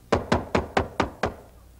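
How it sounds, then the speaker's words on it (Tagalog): Six evenly spaced, solid knocks on a door in a comedy film scene, loud and close, each a dull thump ringing briefly, with no voices in between. "May kumakatok!"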